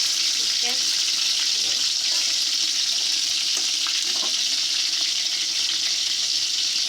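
Potatoes, chicken and raisins sizzle in a pan while frying for biryani, giving a steady, dense crackle that holds evenly throughout with no one speaking.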